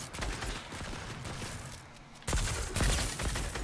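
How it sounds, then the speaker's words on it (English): Pistol fire in a Fortnite battle sounds from a distance, with rapid muffled shots rattling under a steady game ambience and a louder cluster near the end. "Sounds like they're fighting with pistols."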